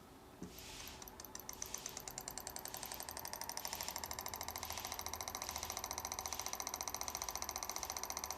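A Keppe electric motor running without its propeller spins up toward more than 2,500 rpm, its close whir and rapid rhythmic ticking steadily rising in speed and loudness, with no other sound.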